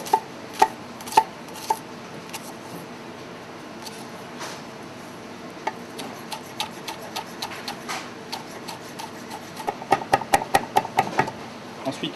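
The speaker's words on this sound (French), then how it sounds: "on va le ciseler finement" A knife finely chops a spring onion stalk on a cutting board, making light, crisp taps that start sparse and irregular, then quicken into a brisk, even run near the end.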